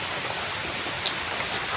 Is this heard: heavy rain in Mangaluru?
yes